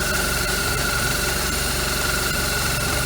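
A BMW R1200 Hex Head motorcycle engine idles steadily after a fuel fitting repair, with an even, close, continuous mechanical rumble and no talking.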